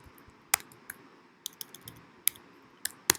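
Keystrokes on a computer keyboard while writing print statements, roughly eight sharp, irregular clicks spread over a few seconds, close and fairly quiet, with no talking.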